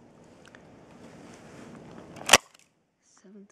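A Crosman AirMag C11 airsoft gun fires a single sharp, loud crack through a chronograph, standing out clearly over a steady background hiss, followed by a brief quiet voice.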